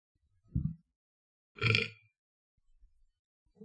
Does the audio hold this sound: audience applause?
no